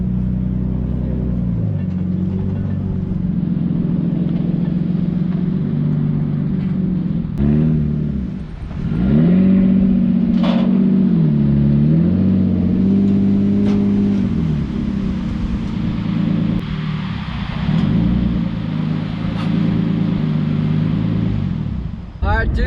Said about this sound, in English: time to load the S14 up onto the trailer